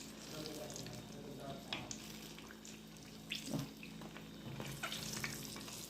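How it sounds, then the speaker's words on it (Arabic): Eggplant frying in hot oil, a close steady sizzle and crackle with a few louder clatters of stirring or handling. "يبقى كده خلاص البتنجان اتحمر."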